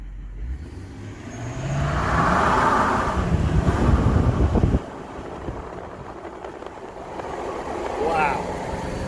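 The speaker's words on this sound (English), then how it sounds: "We're going to give it a little bit of throttle here." A 2021 Chevy Silverado 2500 HD LTZ 4x4 with a 6.6 L Duramax diesel and mud tires revs up loudly with wind buffeting the microphone, holds for a few seconds, then drops back toward idle.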